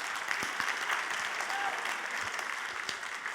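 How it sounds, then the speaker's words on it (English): An audience applauds at a presentation, a steady wash of clapping from a crowd that holds evenly throughout, with a few louder individual claps standing out. "a round of applause for the lobsters that were behind me"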